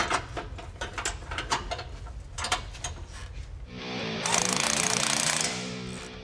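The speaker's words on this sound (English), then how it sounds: "And then cut through those boom tubes with the big cutoff wheel." Large cutoff wheel slicing through steel boom tube exhaust pipes on a Foxbody Mustang, first rattling and clattering in bursts, then a loud sustained high-pitched grinding screech for about two seconds before winding down.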